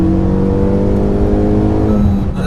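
A Renault Megane RS engine drones loudly from inside the cabin, a steady, throaty hum at constant revs that eases off slightly at the end.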